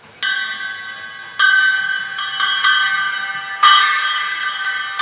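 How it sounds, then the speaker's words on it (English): A Paiste 12-inch Shred Bell cymbal is struck several times, giving bright, ringing metallic hits that sustain and overlap, with a few quicker strikes in between, close and loud. "A 12-inch shred bell."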